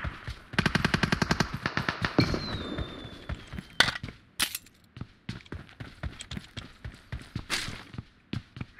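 Gunfire in a multiplayer shooter game: a fast automatic burst up front, then scattered sharp single shots and short volleys, loud and close, with faint voices in the background.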